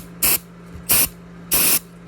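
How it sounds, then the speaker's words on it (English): Brake cleaner is sprayed from an aerosol can onto oily snowblower drain-tube threads in three short, loud hissing bursts, evenly spaced with quiet gaps between them and no voices. "So I'm just going to spray this with a little bit of brake cleaner."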